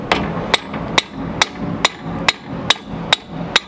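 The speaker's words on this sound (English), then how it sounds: "Lots of hammer smacking, but we finally got it." Repeated hammer blows on a Mk3 Golf's strut bolts during a coilover install, nine sharp metallic strikes at a steady rhythm, close and loud, with no talking.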